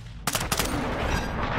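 Gunfire aimed at the player in Call of Duty MW3: a sudden, loud, close burst of several quick shots, then a dense rattling roar that keeps going.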